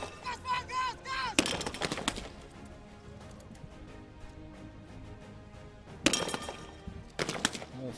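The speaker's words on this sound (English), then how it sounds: "All 4 targets hit by the sniper" Sharp, loud rifle shots crack twice from a sniper firing at targets in a SWAT challenge competition, with spaced impacts and background chatter and voices between the shots.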